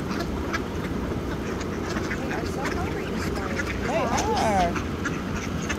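Mallard ducks quack loudly in a group during a volunteer feeding on a morning walk, steady overlapping calls with a burst of louder quacks near the end, under people talking nearby.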